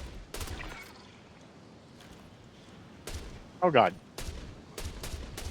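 Sci-fi gunfire in the video game Star Citizen: several sharp, loud bursts of shots spaced irregularly, with a quieter stretch between them and a voice briefly exclaiming over the firing.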